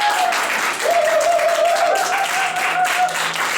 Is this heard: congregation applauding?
yes